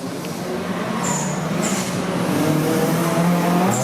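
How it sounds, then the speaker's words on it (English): A Nissan 180SX drift car on a Borneo drift qualifying track in Miri, Sarawak gives a loud, continuous engine roar with revving, and short sharp tire squeals break through at intervals. "starting line in our track is Michael Chung, car number 180 in a 180 SX."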